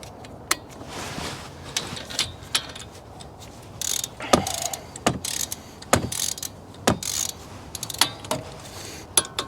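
Torque wrench tightening brake caliper bolts to 25 foot-pounds on a 2016 Hyundai Tucson during a front brake pad change, with a series of sharp mechanical clicks and ratcheting taps at an irregular pace, close and fairly loud, with no talking.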